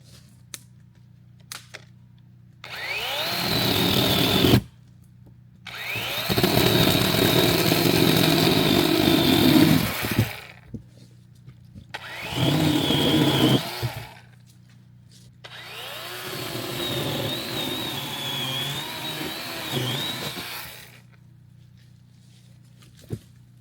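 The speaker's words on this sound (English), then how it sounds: "right now I'm going to cut up some firewood because we're having wood fire grilled steak tonight" Chainsaw cutting up firewood outdoors at an RV campsite, in four loud, sustained bursts with revving between cuts and brief quieter gaps of idling or silence.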